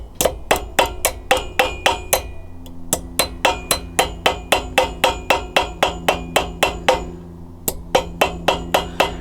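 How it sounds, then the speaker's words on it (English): A ball peen hammer strikes brass held in vice grips, about two dozen sharp metallic blows in a steady, even rhythm, close and loud, with a short pause partway through. "But I'm going to take the ball peen part of the hammer,"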